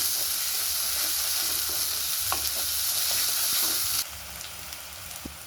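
Masala fries in a pan while being stirred for chicken fry, producing a loud continuous close sizzle with occasional scrape clicks; the hiss drops somewhat in brightness near the end.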